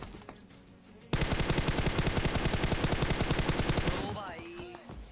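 Rapid sustained automatic gunfire spray in a shooter video game, a dense, loud burst of evenly spaced shots lasting about three seconds, followed by ringing game effects as it tails off.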